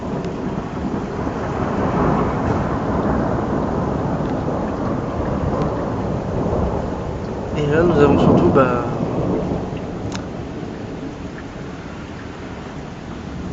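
A thunderstorm with lingering rain gives a continuous rain hiss and a long rolling rumble of thunder midway, with someone talking over it.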